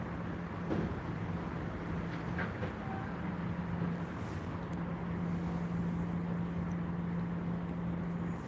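A Class 800 train departing Gloucester rumbles steadily past with a sustained low drone and occasional metallic squeals, gradually moving off into the distance.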